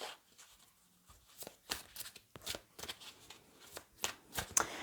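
Cards are drawn and handled from a deck during a card reading, giving soft, close, irregular papery flicks and slides with a few sharper snaps toward the end.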